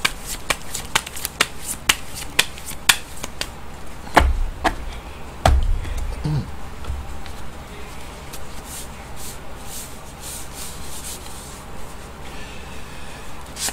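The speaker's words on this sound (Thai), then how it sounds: "จะมาถึงเสียงไพ่ยิปซี" Tarot cards being shuffled during a daily horoscope reading, heard as a quick run of crisp flicks and snaps followed by softer riffling, close by and fairly quiet.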